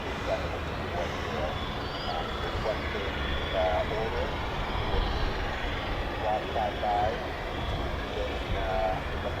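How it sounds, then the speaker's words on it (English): A C-146 aircraft at RAF Mildenhall runs its engines ahead of departure, a steady broad roar at some distance that holds at an even level throughout, with faint voices mixed in. "we've got another departure coming up, I think, or something started up. Sounds like the C-146."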